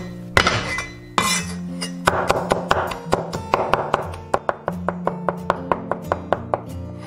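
Garlic is smashed and then minced with a knife on a cutting board: a few heavy whacks, then a quickening run of crisp, close chopping taps that settles into an even beat.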